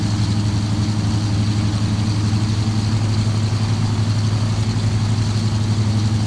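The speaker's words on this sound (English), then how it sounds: "I can hear the hum of the engines" Aircraft engines in a flight simulator game hum steadily at idle, a loud continuous low drone with a constant pitch and no variation throughout.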